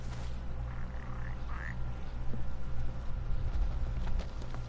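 A frog croaks in the Final Fantasy XV video game, a few short faint croaks over a low, steady game ambience.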